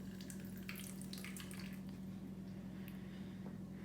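Water being added to pancake batter runs and splashes in a soft, continuous stream, faint and steady, like liquid being poured or a tap trickling.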